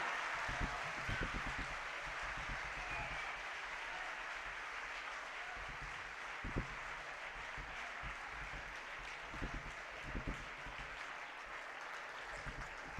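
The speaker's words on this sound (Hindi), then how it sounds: "जोरदार तालियां, वही तालियां 5 मिनट की तालियां।" A crowd at a lecture event claps continuously at a distance, a steady faint patter of applause with a few sharper claps standing out now and then.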